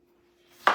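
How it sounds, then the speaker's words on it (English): A handheld food chopper comes down once on red and green peppers with a single sharp, close chop at the very end of a short, otherwise quiet moment. "So I'm gonna try the chopper on peppers"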